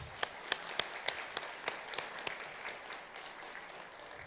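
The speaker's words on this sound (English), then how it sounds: "let's give a round of applause to all our graduates today" Faint, scattered applause from a small group at a graduation ceremony, individual claps distinct and fading out after a few seconds.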